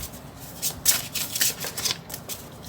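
Tarot cards being shuffled up close, a run of crisp riffling flutters in irregular bursts, with no talking.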